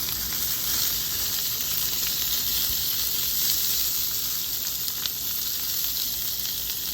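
Red drum fish fillets sizzle on a Blackstone griddle with olive or vegetable oil, a steady loud frying hiss with no talk over it.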